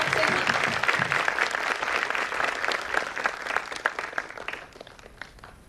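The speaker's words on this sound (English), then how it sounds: "A huge round of applause for Mr." A large audience at a TEDx event in Pune applauds a speaker coming onto the stage, with dense, sustained clapping that fills the hall and gradually thins out toward the end.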